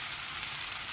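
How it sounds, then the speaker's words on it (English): Shrimp searing in a hot pan for Jamaican curry shrimp, a steady, quiet sizzle and crackle of frying with no voices. "trying to get a little bit more sear on the shrimp on both sides"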